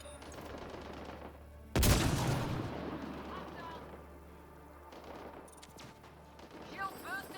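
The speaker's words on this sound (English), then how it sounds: "So they're shooting at each other." Gunfire between enemy factions in Mass Effect Andromeda, with a sudden loud blast followed by scattered shots and rumbling, while a voice speaks in the background.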